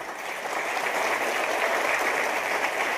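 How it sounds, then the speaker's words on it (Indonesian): Audience applause at an Islamic lecture, a dense, steady patter of many hands clapping together at close range, sustained evenly for the whole stretch without voices over it. "Tepuk tangannya belum pas."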